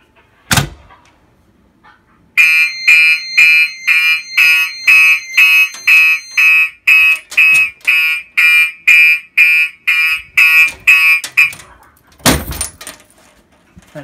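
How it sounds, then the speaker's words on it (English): A fire alarm horn wired as a horn-only device blares in rapid, evenly spaced loud pulses after a Firelight BG12S pull station is pulled, preceded by a sharp clack and ending with another clunk. "I have the SHG wired as a horn-only device"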